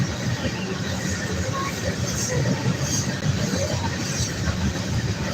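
A train passes nearby with a steady, loud rumble of wheels and carriages and a faint rhythmic clatter, continuous for the whole stretch with soft voices underneath.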